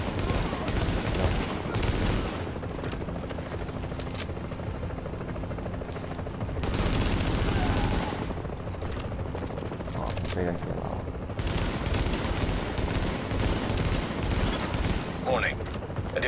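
Video game gunfire in Tom Clancy's The Division rattles in sustained bursts and fusillades, loud and near, mixed with game effects and under someone talking.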